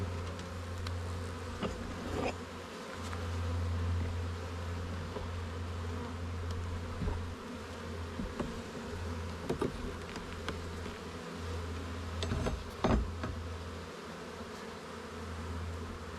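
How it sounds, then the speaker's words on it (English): Dense, steady buzzing of many bees around an open hive during a spring inspection, a continuous droning hum with occasional louder passes close by. "That's full of bees, guys"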